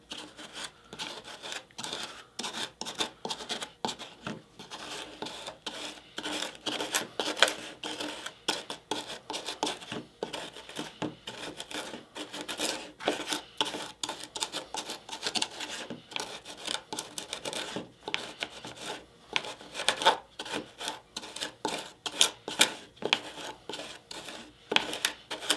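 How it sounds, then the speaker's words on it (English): Clay being ground by hand into paint pigment makes steady, dense, gritty scraping and rasping that goes on close by for a long stretch without talk. "So let's go ahead and just keep grinding this down."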